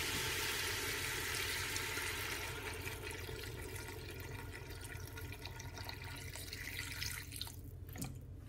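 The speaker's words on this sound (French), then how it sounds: "je rajoute l'équivalent d'un litre d'eau" A litre of water pours onto sautéed vegetables for a pumpkin soup, a continuous rushing splash that fills the clip, easing slightly toward the end with a brief clatter.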